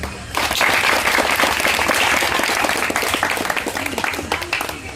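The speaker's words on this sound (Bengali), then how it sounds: "সোনার বাংলা যাত্রা সংস্থার বর্গার সংসারের উদ্দেশ্যে একটি হাততালি দিয়ে" Audience applause at a jatra theatre celebration marking a 200th night performance, dense steady clapping from a crowd that starts abruptly and holds loud throughout, tapering slightly toward the end.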